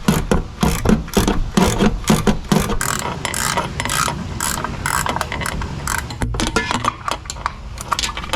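A ratchet wrench tightens bolts during a Pontiac engine installation, giving loud, rapid metallic clicking in steady bursts that run continuously, with brief pauses between strokes.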